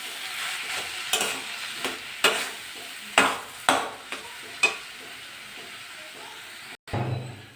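A spatula stirs a jackfruit chop mixture in a hot pan, giving about six or seven distinct scraping strokes at a slow, uneven pace over a soft sizzle, close by.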